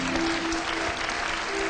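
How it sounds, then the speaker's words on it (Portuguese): A church congregation applauding, a dense, steady wash of many hands clapping together, loud and close, filling the space without a break, with a faint sustained tone running underneath. "Vamos aplaudir a Jesus, amado."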